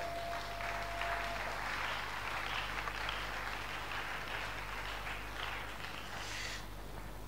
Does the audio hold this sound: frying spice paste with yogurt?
no